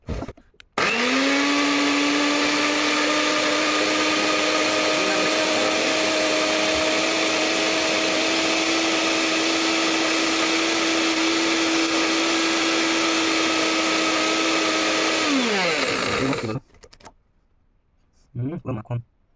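A kitchen grinder runs loud and close for about fifteen seconds, grinding for aloo posto with a steady high whine, then spins down and stops, leaving a short quieter tail.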